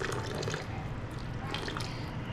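Water poured into an Instant Pot while making birria, a steady close liquid rush and trickle that runs without a break for a couple of seconds.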